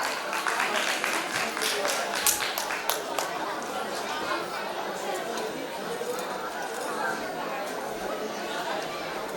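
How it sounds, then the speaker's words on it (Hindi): An audience at an annual school function applauds the winning cricket team with dense, steady clapping and crowd chatter, loudest at the start and then settling into an even wash. "तो एक बार जोरदार ताली से स्वागत कीजिए हमारी विनर क्रिकेट टीम का"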